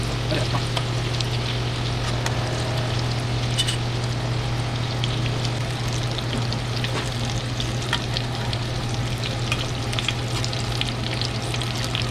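Pickles deep frying in darkening oil, a dense, steady sizzle and bubbling close by with light spoon stirring, over a constant low hum and no talk.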